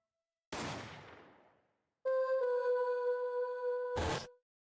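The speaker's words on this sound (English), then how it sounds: "Why, it sounded like a gunshot." A single gunshot from the Apollo Justice: Ace Attorney courtroom game, a loud sharp blast decaying over about a second and a half, followed by a sustained tonal game music sting; no talking.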